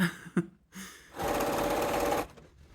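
A sewing machine stitches binding onto a quilt, running in one steady, close buzzing burst of about a second after a few brief handling knocks, then stopping.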